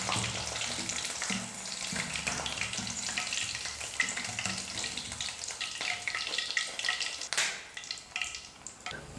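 Mushrooms deep frying in oil for mushroom chilli, a dense continuous bubbling sizzle up close, with a brief clatter near the end.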